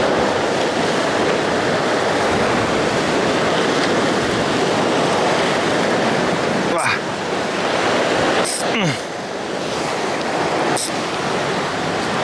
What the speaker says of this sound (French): Il y a un peu trop de vagues,